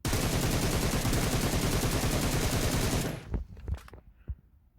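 Rapid automatic gunfire from a video game gun fitted with an extended barrel and laser sight, a loud sustained burst lasting about three seconds, then cutting off into a few scattered clatters and shell-like ticks.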